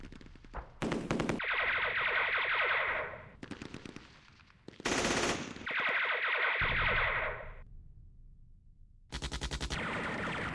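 Sustained machine-gun bursts and rattling gunfire fill a Vietnam War strategy game battle, loud and continuous with brief gaps and abrupt starts, no talking.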